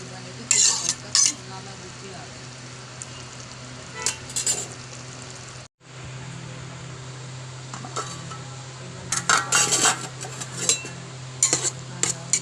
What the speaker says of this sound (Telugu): ఉల్లిపాయలు వేగిన తర్వాత ఈ తరిగి ఉంచుకున్న పొన్నగంటి కూరను వేసి బాగా కలుపుకోవాలండి.